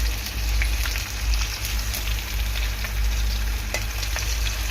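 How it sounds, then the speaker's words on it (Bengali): Cumin seeds sizzle in hot oil in a pan where a fish head has just been fried, a dense continuous crackling hiss, close and loud, with no talk. "এর মধ্যে দিয়ে দেবো জিরে ফোড়ন"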